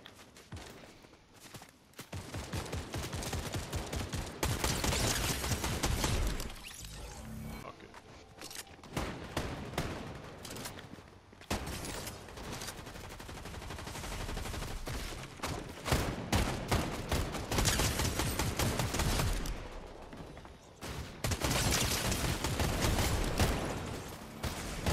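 Rapid video game gunfire rattles in bursts and sustained volleys through a crowded firefight, close and loud, with shuffling footsteps and a voice now and then in the mix.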